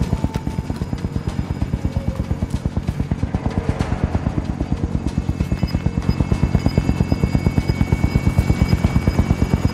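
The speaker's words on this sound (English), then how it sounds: "Helo is in position for your deposit." A helicopter arrives in the video game Warzone, its rotor chopping in a fast, even rhythm that stays loud and grows slightly stronger throughout.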